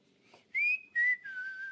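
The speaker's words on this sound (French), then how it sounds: "Tu rentres en sifflotant." Someone whistles on entering a room during a TV entertainment show: a soft shuffle, then three clear, close whistled notes, the last one held and gently falling.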